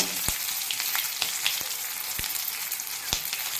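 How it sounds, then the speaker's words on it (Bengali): Meat fries in hot oil with red chilli and five-spice seasoning, giving a loud, steady sizzle broken by occasional sharp crackles and pops, with no voices. "মাংসটা ভালো ভাজা করে নেব"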